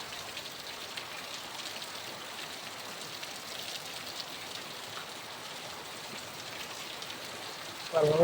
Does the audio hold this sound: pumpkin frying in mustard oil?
no